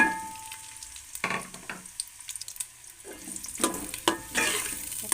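Onions hit hot ghee in a pot, giving soft sizzling with bursts of crackle and clattering stirring or scraping in uneven clusters, close and fairly quiet, without speech.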